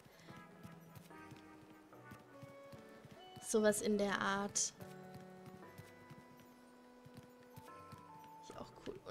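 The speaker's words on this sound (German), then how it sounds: "Und hier fährt der Planwagen mit Pferdchen." Horse-drawn covered wagon clip-clopping in Animal Crossing: New Horizons, light rhythmic hoofbeats amid game music with a brief louder burst, while a person talks over it.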